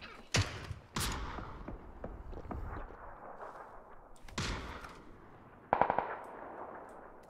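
Gunfire in the battle-royale video game PUBG: a few sharp, loud single shots, then a quick burst of rapid automatic fire near the end, over a low ambient background.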